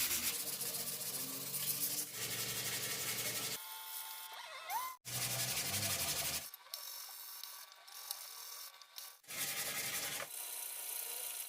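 A rusted iron part is sanded by hand in rough, scratchy strokes that come in bursts of several seconds with short pauses between them, close up and moderately loud, with no one speaking.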